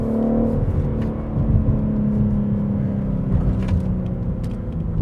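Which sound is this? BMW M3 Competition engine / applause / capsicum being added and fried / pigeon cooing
BMW M3 Competition engine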